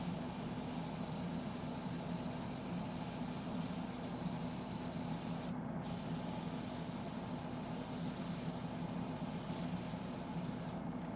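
An airbrush sprays paint onto a Sideshow Darkseid statue maquette in a constant soft hiss, broken by two brief pauses where the spray cuts off.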